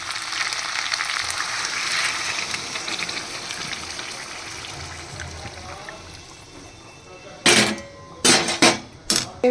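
Hot water poured into frying spice paste for a potato and pea curry, a steady broadband sizzle filling the first seconds, easing off, then a few sharp clanks of utensils near the end.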